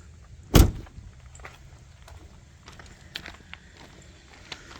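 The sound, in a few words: car hood latch popping open on GM truck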